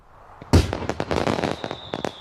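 Gunpowder fireworks burst with a sharp loud bang, then a dense crackling shower of pops and smaller bursts, with a faint whistling tone trailing near the end.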